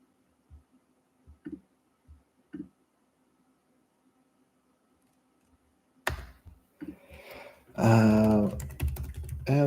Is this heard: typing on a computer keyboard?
yes